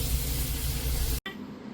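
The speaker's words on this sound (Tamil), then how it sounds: "எண்ணெய் காய வச்சு நெக்ஸ்ட்டு இதை பொரிக்க வண்டி தான்." Food fries in hot oil with a loud, close, steady sizzling hiss that drops abruptly after about a second to a quieter bubbling crackle. No one speaks.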